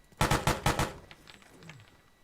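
A burst of automatic gunfire from the military shooter game Arma 3, about five rapid loud shots in quick succession, then fading echoes and faint distant noise.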